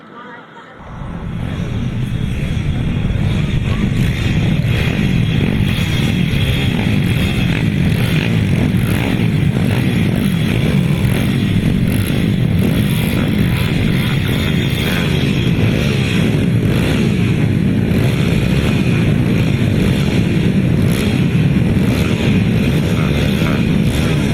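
Grasstrack motorcycles in a youth championship race in Britain, a loud sustained snarl of several engines after a quiet start, continuing at full throttle, with an announcer's voice over the top.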